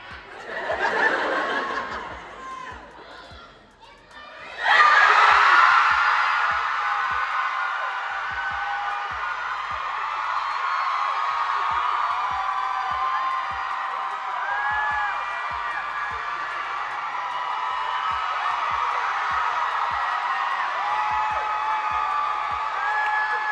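A large crowd at a live show bursts into loud cheering and whooping after a brief spoken lead-in, then holds a sustained roar of screams and applause for the remaining twenty seconds.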